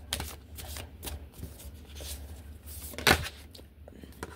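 Tarot cards are shuffled close up in short soft riffles, with one sharper, louder slap near the end over a faint low hum.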